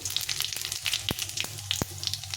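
Dried red chilli and cumin seeds crackle and sizzle in hot oil for a Bengali duck egg curry, a steady close hiss broken by a few sharp pops, with no talking.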